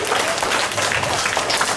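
Audience applause for a student after her speech at a school declamation competition, a steady dense clapping wash that holds evenly through the short moment with no voices on top.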